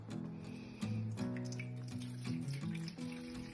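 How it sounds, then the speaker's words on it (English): Tap water runs into a hydroponic microgreens tray in a kitchen, a steady splashing flow with shifting resonant tones as the tray fills, close and moderately quiet, no talking. "So we fill the tray up with water,"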